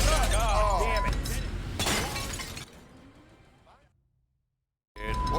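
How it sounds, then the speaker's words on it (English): In a busy restaurant kitchen during a cooking competition, a plate drops and shatters with a loud crash that trails off into scattered fragments, amid kitchen noise and voices, followed by brief silence. "dropping and shattering his plate on the way to the pass"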